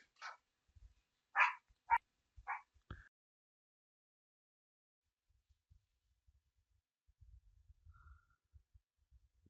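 A few sharp dog barks in quick succession, then quiet with faint low rumbles and soft thumps.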